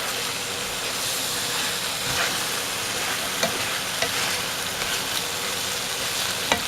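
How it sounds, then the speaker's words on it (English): Black pepper chicken in sauce is stirred around a pan, giving a steady wet sizzle and hiss with occasional sharp scrapes and clicks of the utensil against the pan. "I'm just going to stir it around really good so that sauce gets on everything."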